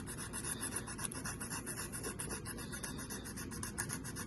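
A hand file rasps back and forth over a chipped piano key, giving a continuous close scratching with quick, even strokes.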